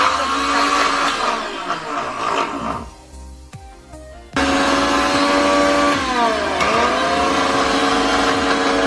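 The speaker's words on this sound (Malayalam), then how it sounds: "3-4 സെക്കൻഡുകളെ മിക്സി ഓൺ ചെയ്യാൻ പാടുള്ളൂ" Mixer grinder crushes shallots, ginger, green chilli and coconut in loud whirring bursts; the motor runs, pauses briefly, then restarts and whines steadily again.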